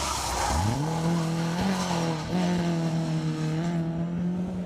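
A rally car's engine revs hard and climbs in pitch on a special stage during acceleration, cornering and braking tests, holding a loud, steady drone with brief dips as it corners and brakes.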